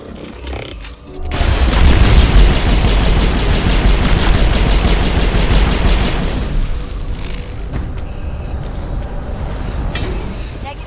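Sustained firefight from the Mass Effect video game, opening with a heavy boom and then a loud, continuous roar of rapid weapons fire that eases slightly near the end, with voices mixed in.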